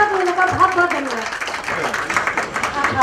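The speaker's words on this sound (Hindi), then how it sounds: "इनके लिए जोरदार तालियां।" Brief burst of audience clapping at a Garhwali stage play event honouring founder members, dense and fairly close, with a voice speaking over it.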